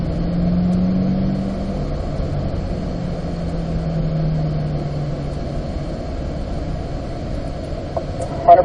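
A car on a driving course run gives a steady engine drone with a low tone that shifts and fades as it pulls away, loud and continuous with no talking.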